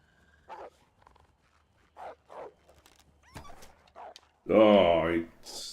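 A dog in a video game yips and barks in short scattered bursts, ending with one louder, longer bark, among quiet game sounds.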